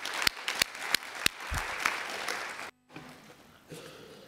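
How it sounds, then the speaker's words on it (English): Audience applause after a business pitch at a Dragons' Den style forum on inclusive trade, opening with several sharp, separate claps before a fuller wash of clapping that breaks off abruptly and then returns faint and thin. "Can we all just have a big round of applause?"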